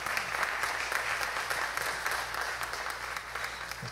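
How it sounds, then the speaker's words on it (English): A church congregation claps hands in praise during a Sunday morning worship service, a dense, steady wash of applause sustained for the full few seconds with no talk over it. "can we offer God one more hand clap of praise?"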